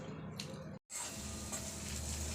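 Chili, garlic and ginger paste frying in oil for a dill leaf vegetable dish, a steady close hiss and sizzle with a brief total dropout partway through.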